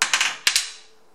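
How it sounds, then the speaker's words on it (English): An AA alkaline battery dropped on a hard surface in a bounce test makes a quick run of sharp, close clicking impacts, with a brief pause mid-run, then a short fading ring. "With a simple bounce test, a good battery will not bounce and it will end with a thud and frequently stand up."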